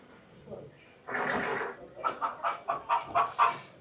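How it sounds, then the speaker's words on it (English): Chickens clucking at Magic Kingdom on the Fourth of July, a rustling burst followed by a quick run of about seven short, evenly spaced clucks, close and fairly loud. "while we look at the chickens"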